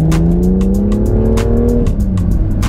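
A BMW M2 engine drones steadily from inside the car, its pitch climbing and then dropping sharply as it downshifts, loud and continuous with no talking.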